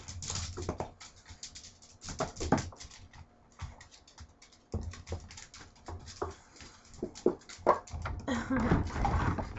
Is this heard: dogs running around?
yes